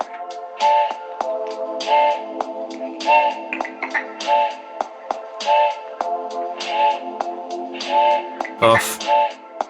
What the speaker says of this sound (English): That's the reverb.